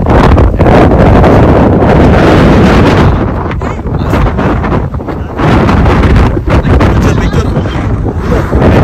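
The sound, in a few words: strong wind on the highway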